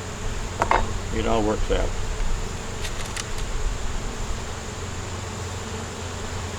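Honey bees buzz around open beehive frames held close by a beekeeper, a steady low hum running throughout, while someone talks briefly over it and a few light clicks sound.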